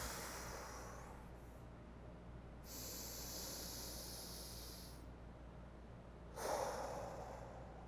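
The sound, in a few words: deep breathing, inhaling to expand the rib cage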